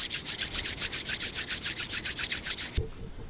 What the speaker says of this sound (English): rub your hands together briskly